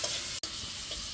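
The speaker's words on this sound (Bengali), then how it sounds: "পেঁয়াজ কাঁচামরিচ সুন্দর ভাজা ভাজা হয়ে গেছে" Onion and green chili fry in a pan with a close, continuous hiss and crackle, broken by a very brief dropout in the middle before the sizzling resumes.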